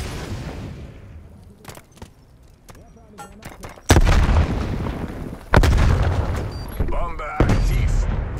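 In Call of Duty Black Ops Cold War, a Molotov bursts with a loud crackling whoosh, followed by repeated heavy booms and gunfire, while game voice lines sound faintly beneath.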